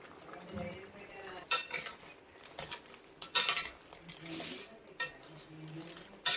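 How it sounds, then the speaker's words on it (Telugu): A spoon stirs coriander powder and garam masala into an Andhra-style crab curry, giving irregular close metallic clinks and scrapes against the pan with a faint simmering sizzle between strokes. "ఇప్పుడు అందులో 1 టేబుల్ స్పూన్ వరకు ధనియాల పొడి, ఇంకా గరం మసాలా కూడా వేసుకొని మొత్తం ఒకసారి కలుపుకోవాలండి."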